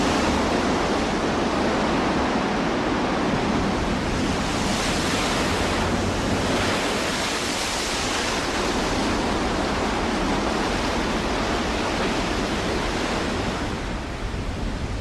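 Storm-driven waves crash continuously into a bay on a Iberian cape in early winter, a loud, dense roar of surf and wind with no letup.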